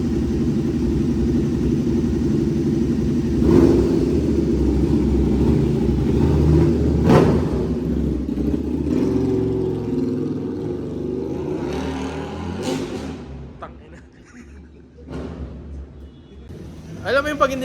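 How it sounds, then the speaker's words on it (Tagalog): A KTM Super Duke motorcycle with a fluid leak idles with a deep, steady rumble and brief revs, then quiets, while people talk over and after it. "Testingin lang yung motor."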